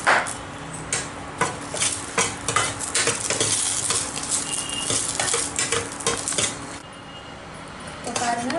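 Dried sundakkai berries sizzle and crackle as they fry in a pan for a Tamil village-style vathal kuzhambu, with steady stirring scrapes and utensil clinks throughout.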